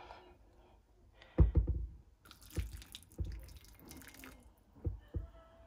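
Room-temperature water poured onto blue clay in a container, giving several splashy gurgling bursts with drips and trickles between them, close and moderately loud, with no talk.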